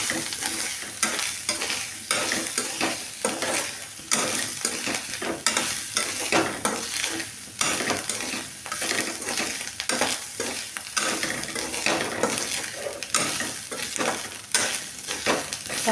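Coconut, cumin and black pepper dry-roast in a pan for a chicken curry masala, a soft continuous sizzle broken by frequent scraping stirs of a spoon across the metal.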